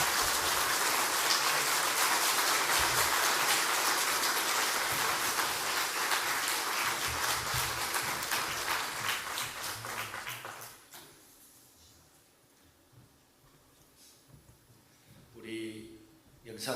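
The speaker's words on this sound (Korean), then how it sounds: "박수하겠습니다." A church congregation applauds to welcome a visiting pastor at a revival meeting; loud, dense clapping runs for about ten seconds, then fades to a quiet room with faint sounds.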